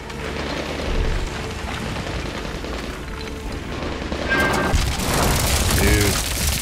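Gunfire and heavy booms in the Medal of Honor Warfighter shooter, loud and continuous with louder blasts toward the end.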